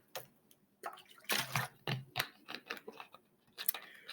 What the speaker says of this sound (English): Now, I need a drink of water.